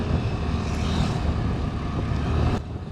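A Suzuki Burgman 125 scooter accelerates on the road in a pickup test, its engine and wind noise forming a steady, full roar that drops off abruptly near the end.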